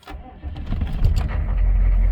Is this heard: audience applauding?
no